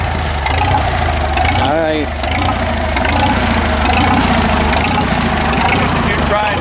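An old International Harvester Farmall H tractor engine idling unevenly during logging work, a loud, close, lumpy chug running throughout while a person speaks briefly over it.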